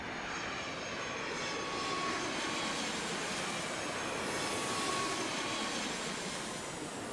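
A Delta airliner landing on runway 8 left at Atlanta airport gives a steady, loud broadband jet roar that holds evenly throughout with only slight swells, with no voices.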